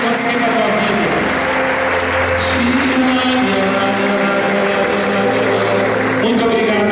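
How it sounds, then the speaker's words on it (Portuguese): A church congregation applauds during Mass, broad continuous clapping holding at an even level throughout, with a sustained organ or keyboard tone and some voices beneath it. "Pode aplaudir isso."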